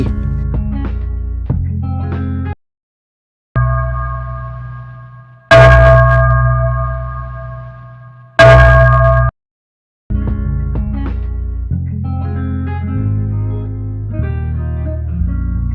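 A large temple bell at a hilltop temple in Sa Kaeo, Thailand, is struck twice, each hit ringing out loudly with a long humming decay, while steady tonal music plays before and after.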